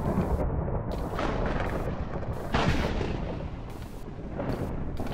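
A rocket explodes in the video game Dungeons, Dragons, and Space Shuttles, a heavy, rumbling roar of blast and debris lasting several seconds, loud and unbroken, with no speech.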